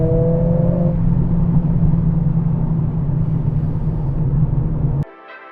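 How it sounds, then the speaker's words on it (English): A Mercedes-AMG CLA45 S accelerating hard from a standstill gives a loud, sustained engine drone heard from inside, which cuts off abruptly near the end. "Yep, the car is just as fast as I remember and just as dramatic."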